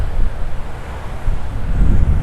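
Gusty wind buffets a lavalier microphone at a beachside campsite, a loud, low, rumbling roar that surges and flutters throughout with no voices.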